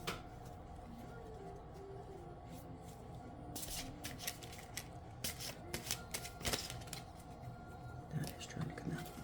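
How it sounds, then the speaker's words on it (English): A large deck of oversized cards is shuffled by hand, giving bursts of riffling and soft clacks that come and go over a steady background hum, growing busier toward the end. "I have a really hard time shuffling these two because they're so big and I have tiny hands"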